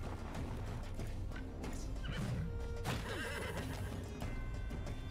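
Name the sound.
horse neighing in the video game Wartales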